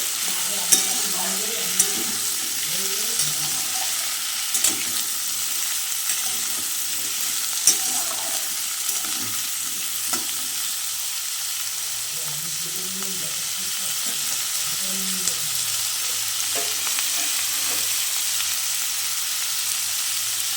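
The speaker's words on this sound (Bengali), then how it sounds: "এরপরে আমি একটু নেড়ে দেব অল্প একটু ভাজা ভাজা হবে" Sliced beetroot and carrot stirred and lightly fried in a pan for a curry, a steady sizzle and hiss running throughout with soft scraping stirs now and then, close and fairly even.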